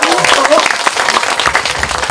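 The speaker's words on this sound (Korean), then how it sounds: "큰 박수 한번 쳐주십시오" Audience applause at a book-talk event with an author at a small bookshop's second-anniversary gathering, a dense, steady patter of many hands close by, running throughout with some voices mixed underneath.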